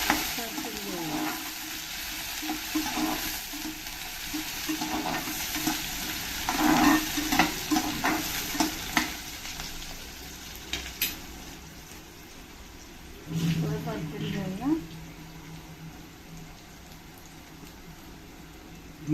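Onion and whole spices fry in a pan, giving a continuous crackling sizzle with bursts of louder stirring and scraping in the middle and again near the end, close-up, with faint voices at moments.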